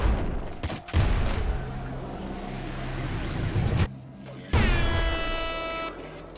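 Grenade launcher in the video game Nuclear Throne firing in loud, booming bursts, one early and one a few seconds later, the second trailing off in a ringing tone.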